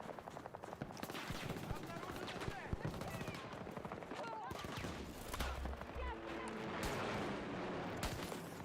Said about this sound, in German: Меня обстреливают!